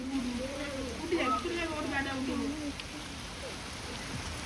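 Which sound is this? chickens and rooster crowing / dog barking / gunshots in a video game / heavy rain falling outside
heavy rain falling outside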